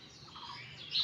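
Birds chirping outdoors, a few short tweeting calls rising over a low background hum, moderately near and growing louder toward the end.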